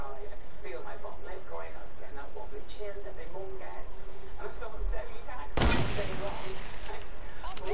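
Gunfire during a Fortnite build battle, a loud burst of shots breaking out partway through over game noise while players talk.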